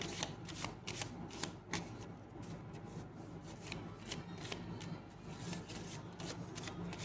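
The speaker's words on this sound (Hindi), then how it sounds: "एक और कार्ड निकालेंगे हम." A deck of cards being shuffled during a card reading, a steady run of riffling flutters and soft slaps, close up and continuous with no voices.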